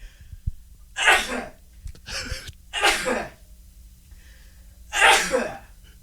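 Several sharp sneezes, about four, spaced a second or two apart, close and loud against a quiet background.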